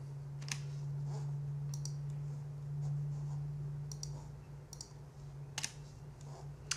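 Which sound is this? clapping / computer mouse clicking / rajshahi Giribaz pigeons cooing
computer mouse clicking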